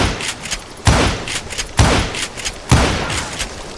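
Three loud, evenly spaced gunshots from the Call of Juarez: Gunslinger Western video game, each a sharp close blast with a short decaying tail, with no voices over them.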